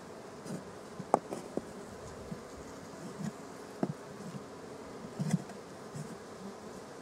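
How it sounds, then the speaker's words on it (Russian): Honey bees buzz around a trap hive set up as an extra garden apiary, a steady low insect hum with occasional closer passes of individual bees and small knocks, no talking. "Спокойно, спокойно, пчелочки."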